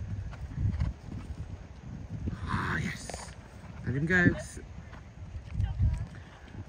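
A horse moves about with soft, irregular hoof thuds and rustling, while people speak quietly nearby.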